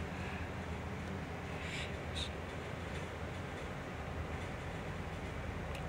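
A low, distant rumble of a CSX freight train rolling steadily over a large drawbridge in Jacksonville, with faint higher clanks and a constant broad noise bed.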